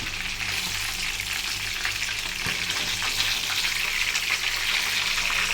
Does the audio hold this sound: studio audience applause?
no